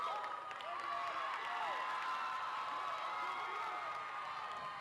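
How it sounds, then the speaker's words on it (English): A large crowd at a cheerleading competition roars and cheers steadily, with applause and whoops blending into a continuous, distant wash of noise. "You can hear the crowd roaring for the Generals."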